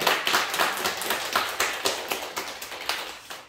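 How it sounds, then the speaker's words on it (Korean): A church congregation claps after a hymn, a quick, fairly even run of sharp hand claps at moderate volume lasting a few seconds. "하나님께 영광의 박수 올려드립시다"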